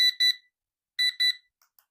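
Colorful digital timer on its loudest alarm setting, sounding two loud pairs of sharp high-pitched beeps in quick succession, then going quiet apart from faint clicks.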